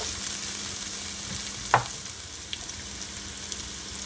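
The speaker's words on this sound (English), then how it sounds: "So you just want it to saute." A pan sautés for rasta pasta with a constant, even sizzle, while a single clear utensil clink sounds midway and a couple of fainter ticks follow.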